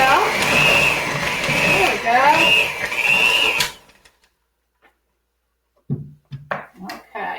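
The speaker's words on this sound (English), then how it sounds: "now I'm going to unplug our mixer" An electric hand mixer whirs loudly through chocolate chip cookie dough, its pitch dipping and rising as the beaters work, then cuts off abruptly into near silence before a voice briefly speaks.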